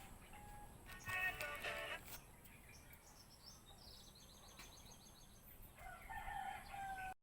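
A rooster crows in short bursts at a distance, with a second crow near the end, over faint outdoor background noise.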